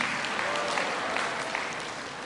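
A conference hall audience at a Christian teachers' gathering claps loudly together, a thick, continuous roar of many hands holding steady with no talking over it.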